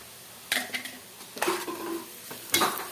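Radish fries and gets stirred in a pan for a pickle, with three bursts of metal spoon scraping and clattering against the pan over a faint sizzle, close up and without voices.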